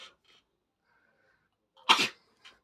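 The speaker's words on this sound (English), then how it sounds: "you sneezed on me" A single sharp sneeze bursts out close by, short and forceful, amid near silence with a few faint sounds before and after.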